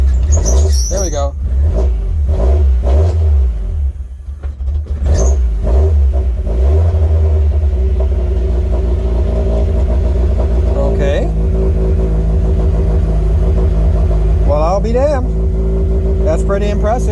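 A budget Mazda Miata engine running just after a SpeedyEFI plug-and-play install, a steady, slightly uneven low rumble close by with a brief rev early on, while someone speaks over it.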